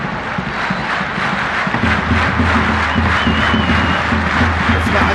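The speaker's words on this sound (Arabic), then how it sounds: "اسمع الجماهير على المدرجات" Football crowd cheering and chanting in the stands at Newroz stadium in Sulaymaniyah during an Iraqi Stars League match, a dense, loud, continuous roar with rhythmic chanting building after a couple of seconds.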